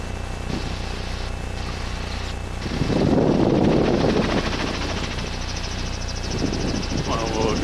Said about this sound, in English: Let's do a turning takeoff.